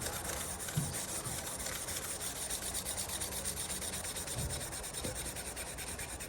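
Steady dry rubbing scrapes across wood as sticker residue is worked off a wooden bonsai accent stand, close and moderately quiet, with a few soft knocks and no speech.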